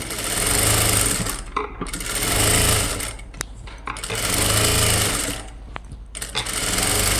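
Sewing machine stitching a blouse joint, a close, steady mechanical whir in bursts of several seconds, separated by short pauses with small clicks and handling noises.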